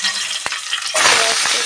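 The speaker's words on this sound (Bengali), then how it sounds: "তো এই তেলের মধ্যে আমি দিয়ে দেবো রসুন কুচি, কাঁচা লঙ্কা কুচি," Chopped garlic and green chilli dropped into hot oil for bhindi masala burst into a loud, close sizzle after a quieter frying hiss, with a brief stirring knock.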